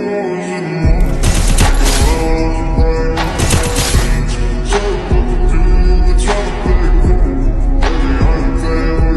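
Rapid UMP gunfire in the video game Free Fire, loud repeated bursts of shots in quick succession with brief gaps, close and dominant throughout.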